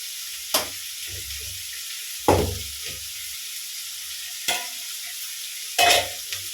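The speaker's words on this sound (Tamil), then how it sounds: "இதில் நம்ம கார சட்னிக்கு வதங்கிக்கிட்டு இருக்கு" Ingredients for a spicy onion-tomato chutney sautéing slowly on a low flame, a faint steady hiss punctuated by four separate sharp spatula scrapes and knocks against the pan, close by, with no speech.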